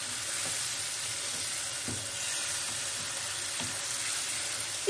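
Ground meat sizzles and fries steadily in a pan after warm water is added, a continuous bright crackle with a few faint utensil knocks, no voices.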